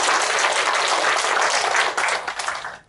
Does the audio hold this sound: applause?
yes